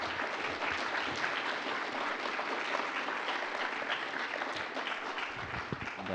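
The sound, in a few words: audience applause for sponsors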